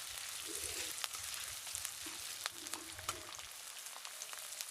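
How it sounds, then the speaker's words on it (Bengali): Chopped onion and ginger fry quietly in mustard oil, a soft steady sizzle with faint crackles and occasional light pops, fairly low in level and close. "আদা কুচি আর পেঁয়াজটাকে একটু ভেজে নিচ্ছি"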